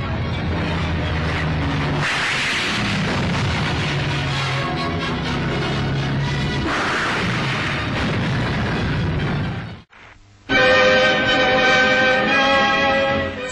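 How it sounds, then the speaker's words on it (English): Rockets fired from Seafire and Firefly aircraft strike a target towed astern of a ship, heard as a continuous heavy rumble of booms and blasts, then a brief drop and a bright, ringing burst of sound. "Seafires and fireflies attacked a target towed astern with rocket fire"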